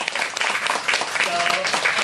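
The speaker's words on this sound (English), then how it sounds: "I just want a round of applause for them." Applause from the audience at a book launch for the contributors to "I will survive", a brief, fairly loud, dense clapping that is mixed with some voices.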